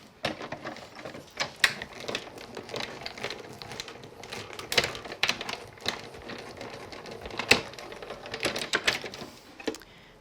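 A die cutting machine runs card and decorative hexagon dies through, giving a steady mechanical rolling clatter with sharper clicks and snaps over about ten seconds, close and moderately loud, with no talking.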